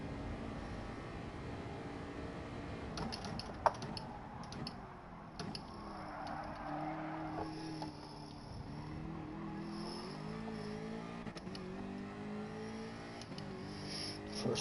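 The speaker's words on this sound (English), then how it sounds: "we'll have to have maybe a wee check at the top guy and see how much he's revving this car out" A car engine revving and climbing through gears in a driving game, moderately faint with pitch sweeps rising across the clip, scattered clicks and ticks over it, no talk.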